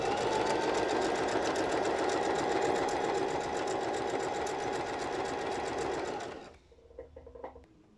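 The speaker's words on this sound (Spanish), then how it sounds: "vamos a repisar la costura volteando hacia la parte interna el elástico" A sewing machine stitches a seam over elastic with a loud, fast, steady mechanical whir close by, then stops abruptly, leaving a few faint handling clicks.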